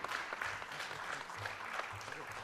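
An audience at a university health-sciences research conference applauds steadily, a dense sustained clapping that stays fairly even and moderately distant throughout, with a low murmur or voice faintly underneath.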